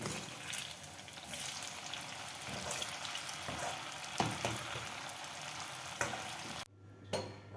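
Onion frying in a small amount of oil in a kadai, a steady close crackling sizzle with bursts of stirring scrapes, cutting off abruptly near the end.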